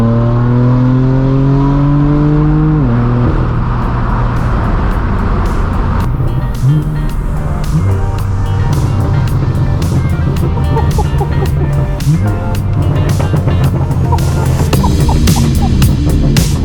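A straight-piped BMW M4 F82 drives along with a loud, raw exhaust drone. The engine note climbs and drops through several gear changes, and sharp crackles and pops come from the pipes on the overrun.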